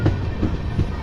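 The Hemkunt Express rolls along the rails with a steady, rhythmic clickety-clack of wheels over rail joints beneath a low rumbling drone, close and loud, with no voices.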